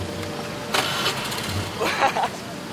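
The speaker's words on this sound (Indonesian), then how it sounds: "Coba saya nyalain ya motornya." A motorcycle engine cranks and catches at a roadside police traffic stop, with a couple of rough bursts of starting noise over a steady background rumble and traffic hum, while people talk nearby.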